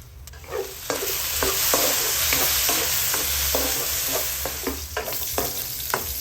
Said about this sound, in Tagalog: Pakukuluan natin itong ating karne hanggang maprito siya.